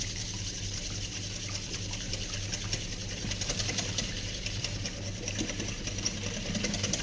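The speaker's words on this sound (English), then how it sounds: "I'm going to whisk those eggs into the milk" A whisk beats two eggs into milk in a bowl for a thin crumbing mixture, making a fast, steady rhythmic clicking and swishing that stays quiet and even throughout.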